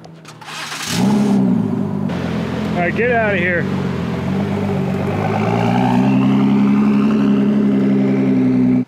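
A Ford GT's engine cranks and catches, then settles into a loud, close idle with a brief blip of revs. Someone speaks briefly over the running engine.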